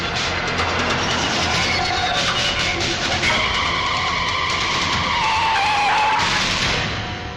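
A vehicle skids and brakes to a stop, a long screeching tyre squeal over engine rumble that stays loud for several seconds before fading out.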